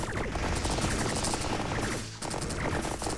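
Dense, continuous barrage of fireballs and explosions in the final boss fight of the roguelike Wireworks, loud and crackling throughout with a brief dip near the end before the blasts surge again.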